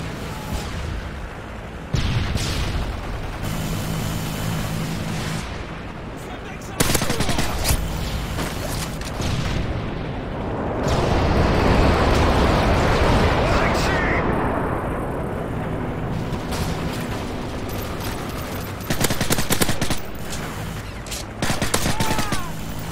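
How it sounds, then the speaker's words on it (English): Predator missile strike and gunfire in Call of Duty Modern Warfare 3 on the Village map: loud bursts of gunfire and booming impacts, with a sustained roaring blast in the middle and sharp shots continuing after. "Friendly Predator missile inbound."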